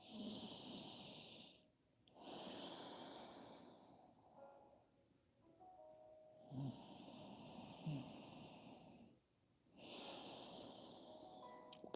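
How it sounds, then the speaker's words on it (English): Slow, deep nasal breaths during a yoga session: long airy inhales and exhales rise and fall in a steady rhythm, close and fairly loud, with brief quiet pauses between them and no talking. "breathing through your nose."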